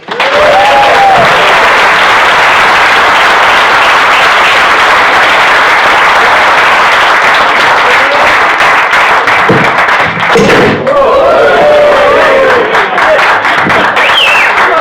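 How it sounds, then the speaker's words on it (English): Loud, dense applause from a hotel function-room audience welcoming a performer onstage, steady clapping that fills the whole stretch, with whoops and cheers rising near the start and again late on, plus a few thumps. "So please, if you will, give a round of applause to Nick Hill."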